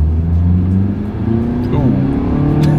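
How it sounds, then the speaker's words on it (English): A 2024 Mitsubishi Outlander Sport accelerates at full throttle, its engine droning loudly from inside the cabin with a rising pitch and a gear shift partway through, while a brief exclamation is heard. "let's see how quickly we can get our new 2024 Mitsubishi Outlander Sport here up to speed"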